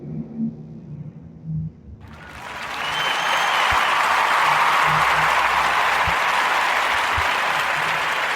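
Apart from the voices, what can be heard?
audience applause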